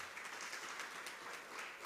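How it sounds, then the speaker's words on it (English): Brief, fairly faint applause from a keynote audience at a national conference, a short patter of many hands heard from a distance. "A round of applause for that."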